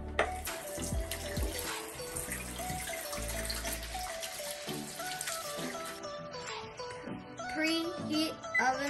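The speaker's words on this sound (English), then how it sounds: "Before cooking, always wash your hands." Running tap water pours steadily into a sink as hands are washed before cooking, a continuous splashing rush that shifts in tone as the hands move under the stream.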